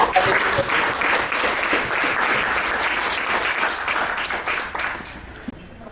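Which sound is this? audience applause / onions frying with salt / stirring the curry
audience applause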